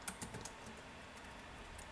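Faint, quick clicks of typing on a computer keyboard, a few sharper keystrokes at the start and then a steady, quiet patter with no talk.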